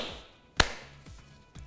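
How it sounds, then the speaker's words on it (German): A single sharp thump as mint sprigs are bruised for a melon slush syrup, loud and close, followed by faint background clatter with no talk. "Dann die Minze so ein bisschen zerschlagen."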